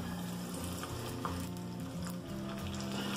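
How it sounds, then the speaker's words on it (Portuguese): Steady, dense sizzling of pork rinds (torresmo) frying in hot fat until puffed and crackly, continuous and close with soft crackling pops throughout. "Assim que a gente coloca, ele já começa a pururucar."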